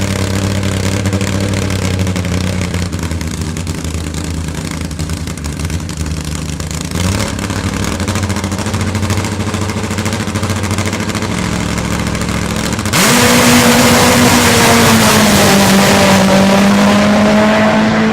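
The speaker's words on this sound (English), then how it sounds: "Great run there for Korry." A Top Fuel drag racing motorcycle roars through a run at a drag strip, its engine loud and sustained for the whole stretch and swelling sharply louder near the end as it passes close.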